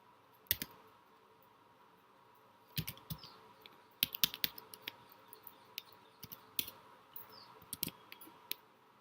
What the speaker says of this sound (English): so I will be typing in them